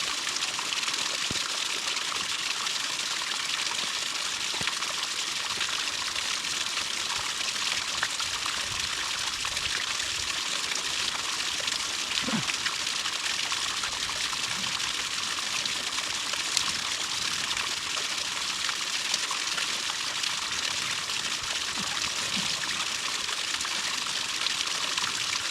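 Shallow stream of water trickling down a rock face at a low waterfall during a dry spell, a steady bright splashing wash that continues unbroken and fairly close, with no voices.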